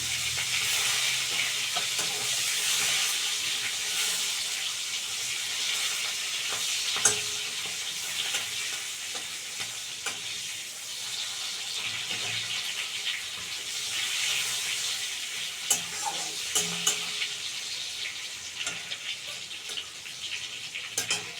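A whole cut onion fries with cumin in a pan for egg and potato curry, a continuous moderate sizzle with scraping stir strokes and occasional sharper clinks of the spoon throughout.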